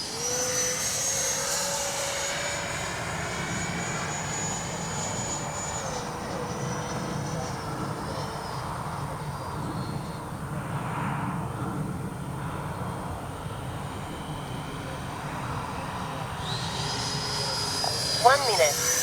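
Freewing 80mm T-33 Shooting Star RC jet flying overhead, a steady electric ducted-fan whine with a shifting pitch that rises and falls as it passes, continuous throughout with faint voices beneath.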